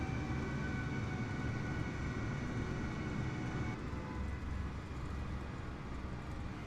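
Aircraft engine in Microsoft Flight Simulator 2020 multiplayer, spooling up for takeoff, a steady loud droning roar that holds nearly constant throughout with no voices.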